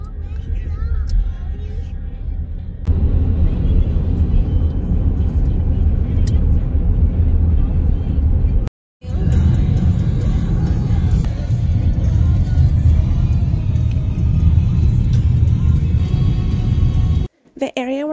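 Car driving through a rural area near a church, a steady loud low road rumble and engine drone with speech over it, interrupted by two brief cuts.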